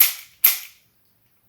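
An action CO2 air revolver fires two sharp, loud cracks about half a second apart, each decaying quickly into silence, heard alone at close range.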